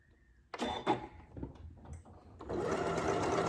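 Janome Memory Craft MC9450 sewing machine stitching a built-in quilting pattern; a few clunks and mechanical starts give way to a steady, close whirring hum of the motor running continuously.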